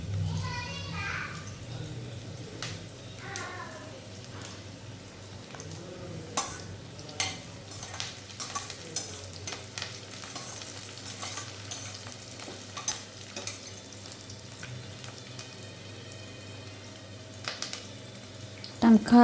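Tomatoes fry and sizzle in a pan while a spoon stirs and scrapes intermittently; voices chatter faintly in the background.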